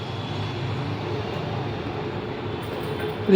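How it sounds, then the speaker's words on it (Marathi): Steady rumbling roar of a metro train departing a station, a continuous low mechanical drone with no talking. "बाई बाई मेट्रो चालली इथून"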